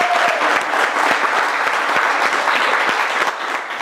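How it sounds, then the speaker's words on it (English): A game show studio audience applauds a contestant with steady, dense clapping that stays loud and even throughout, with no voices over it. "A round of applause,"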